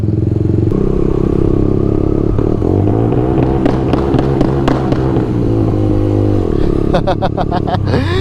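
A Kawasaki Rouser 180 with an SC Project exhaust pipe revs hard and close, the engine note climbing and falling before a rapid burst of sharp backfire pops near the end.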